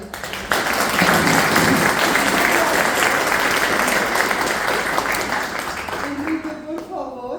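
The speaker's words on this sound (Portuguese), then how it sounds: "dar mais um aplauso para a Michelle" Loud, dense applause from a seminar audience at a neurodiversity talk, a full wash of clapping that swells in quickly, holds steady, then thins out near the end as a voice comes in.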